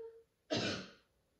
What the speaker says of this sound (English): and then we super cough into our elbow.